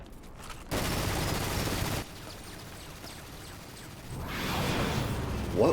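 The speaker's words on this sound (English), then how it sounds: "What was that? An entire firing squad? Not a single one of those bullets hit?" A volley of gunfire from a firing squad in Dirge of Cerberus: Final Fantasy VII, a dense burst of shots lasting about a second, then quieter rumbling game ambience and a rising second wave of noise.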